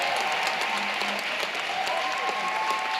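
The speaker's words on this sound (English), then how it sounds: "A round of applause." Dense, steady applause from a luncheon audience at a women's professional gathering, a continuous bright patter of many hands with faint voices and a whoop mixed in.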